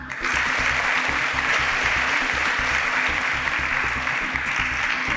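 Loud, sustained applause from a studio audience for contestant Damola at a competition show, dense steady clapping holding for several seconds with no speech over it.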